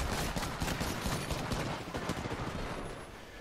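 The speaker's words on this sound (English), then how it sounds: "There's 3 more people shooting at me." Rapid bursts of automatic weapon fire in the battle royale game Apex Legends rattle steadily for several seconds, dense and loud like several shooters firing at once, with no talking.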